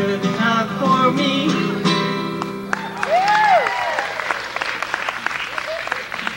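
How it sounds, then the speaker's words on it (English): Concert audience applause breaking out after a sung gospel hymn's final notes, clapping rising under lingering tones and whistling-like sounds, then continuing somewhat scattered and moderately close. "Pretty sneaky way to get applause, huh?"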